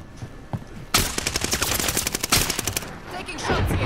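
Rapid automatic gunfire erupts in Call of Duty Warzone after a quiet moment, a close, loud burst of closely spaced shots lasting about two seconds before tapering off.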